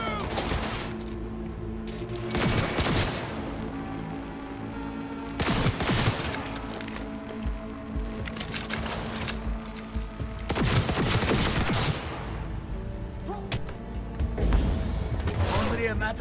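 Rapid gunfire crackles through a Cyberpunk 2077 firefight, dense bursts of automatic shots repeating in waves, loud and close, with shouted voices mixed in.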